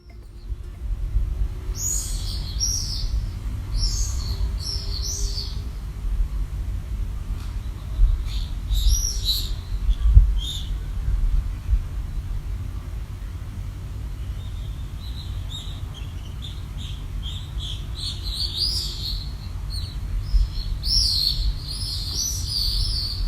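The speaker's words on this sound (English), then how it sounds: "the sound of birds screeching overhead" Several short bird calls ring out in bursts above a low, steady rumble of wind or surf, fairly distant and intermittent.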